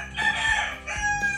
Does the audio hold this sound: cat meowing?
no